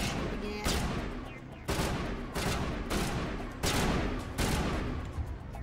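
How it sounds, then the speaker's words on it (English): Rapid bursts of gunfire in the video game Mass Effect Legendary Edition, loud and dense with repeated volleys about once a second, over a continuous battle din. "I don't fucking see what you're shooting at."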